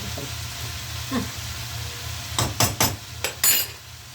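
A spoon stirring corn flour in a pan in a home kitchen, heard as a few scrapes followed by a quick run of sharp metallic clinks and knocks against the pan over a low steady hum.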